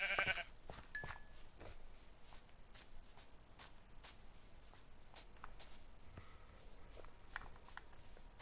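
Sheep bleating in Minecraft survival mode: a brief, faint bleat at the start, followed by a steady series of quiet, evenly spaced clicks and taps over a low background hiss.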